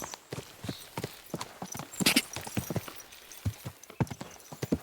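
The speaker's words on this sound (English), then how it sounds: "What a cheap old nag." Horse hooves clip-clop steadily in Kingdom Come: Deliverance 2, a walking gait of close, distinct knocks running throughout, with a brief whinny-like burst partway through.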